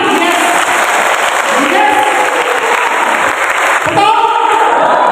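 A congregation claps steadily at a Catholic charismatic prayer service in St. Yosef church, Tegal, with a dense, continuous wash of applause that swells near the end while voices speak over it.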